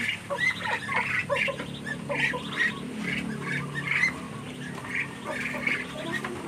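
Ducks kept at a home in the Philippines squawk and quack in repeated, overlapping calls at moderate distance over a low background murmur.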